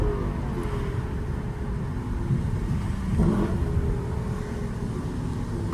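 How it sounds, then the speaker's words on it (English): Lexus LC500 exhaust revving in steady, loud engine drone, rising briefly around the middle as the throttle opens, heard from inside the car with no talking. "The exhaust sound too good."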